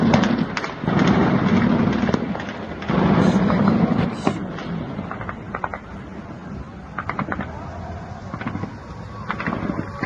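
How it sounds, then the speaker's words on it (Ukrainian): Heavy booming blasts roll in bursts after air-raid sirens, followed by scattered sharper cracks and pops at a distance, with a faint voice here and there. "пішли сирени, і пішли вибухи"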